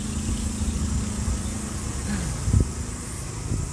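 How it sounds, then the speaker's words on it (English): Generators run outdoors at a protest occupation outside parliament, a steady, low mechanical hum with a faint tonal whine that drones continuously at moderate distance, with a brief knock near the end. "I can hear the sound of generators over this end."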